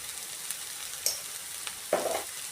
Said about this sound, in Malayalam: നല്ലതൊന്ന് ഇളക്കി കൊടുക്കാം.